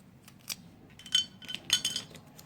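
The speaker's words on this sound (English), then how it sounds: "So here I'm adding in cardamom, cloves," Cardamom pods and cloves dropping into a grinder jar for masala tea, a few quiet light clinks and rattles scattered over a couple of seconds, no voices.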